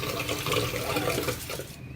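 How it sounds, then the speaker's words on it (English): Tap water running steadily into a sink while hands are washed, a close, continuous splashing rush that stops abruptly near the end. "Let me wash my hands."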